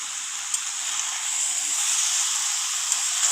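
Vegetarian jackfruit curry sautéing in a pan gives a steady, close sizzling hiss that holds evenly throughout, with a few faint clicks and no voices.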